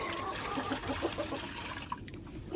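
Drinking water is poured out for backyard chickens, a soft trickling, gurgling flow with small splashes, fairly faint and close, with no voices.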